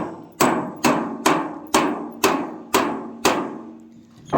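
A hammer pounds a scrap water heater in seven loud, evenly spaced metallic blows, each ringing briefly before the next, close by with no talking.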